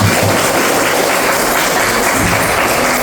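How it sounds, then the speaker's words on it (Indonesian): A school class applauding together in an Indonesian civics lesson, dense loud continuous clapping that fills the room from start to finish. "Mari kita tepuk tangan."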